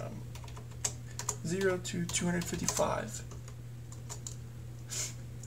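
Clicks and taps from a computer keyboard as values are typed in while programming a WS2812B LED strip. The keystrokes come in short bursts under a man's speech, close and moderately loud.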